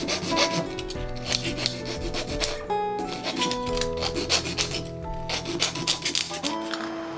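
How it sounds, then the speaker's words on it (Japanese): A metal file rasps steadily across the sharp cut edge of an aluminum drink can, the rim of a 42 mm hole made for a DIY alcohol stove, with repeated close scraping strokes over a tonal background and no talk. "切り口が鋭利なので怪我をしないようにヤスリをかけておきます"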